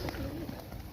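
Banded pigeons being fed seeds give low, throaty coos close by, a rolling warble sliding through the brief moment over soft background noise.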